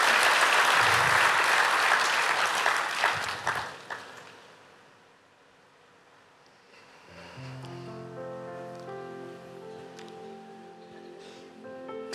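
A church congregation applauds loudly and steadily for about four seconds, then the clapping fades away as soft sustained music rises underneath.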